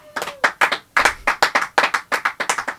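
A podcast studio audience claps in distinct, fairly even smacks, a small group of hands heard clearly and close, with no talking over it.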